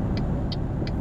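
Truck engine in Euro Truck Simulator 2 pushed to full throttle, a steady low rumble with three short faint higher chirps spaced through it, no talk.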